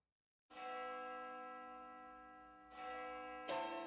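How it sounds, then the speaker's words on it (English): A bell rings in the horror game Spirit Hunter: Death Mark 2, a sustained resonant metallic tone that sounds three times and swells slightly louder with each strike, clear and alone. "I hear the sounds of a bell"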